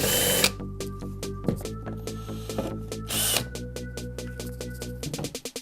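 A power drill or screwdriver drives screws into a wooden drawer, loud whirring bursts broken by short stops and rapid clicking ratchets, ending in a quick series of stuttering pulses.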